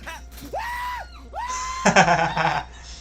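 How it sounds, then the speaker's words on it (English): A shrill, drawn-out scream from a scary video rings out twice, each rising then falling, followed by a harsher, noisier burst of screaming, loud and close with no talk over it. "I love that scream."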